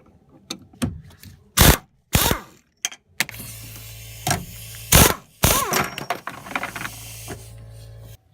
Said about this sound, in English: Take these bolts off.